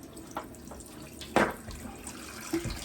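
Water runs from a tap into a sink while wool is washed with conditioner: a soft, steady trickle, close by and fairly quiet, with a few splashes and drips as the wool is handled.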